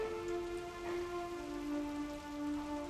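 Rain falling steadily on a surface, a soft continuous patter with faint steady tones underneath and no voices.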